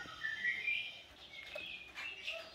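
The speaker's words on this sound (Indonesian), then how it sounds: "ini jalak niasnya ini sepasang ya sepasang" A pair of Nias hill mynas call with high, whistling chirps and short fluty notes, fairly quiet and close, over faint background hiss.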